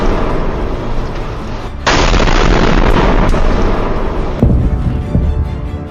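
Iranian missile launches and explosions at night, a loud continuous roaring rumble with a sudden surge and sharp booming cracks, dense and powerful throughout.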